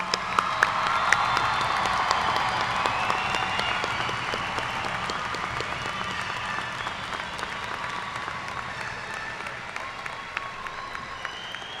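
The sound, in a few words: commencement applause for the class of 2011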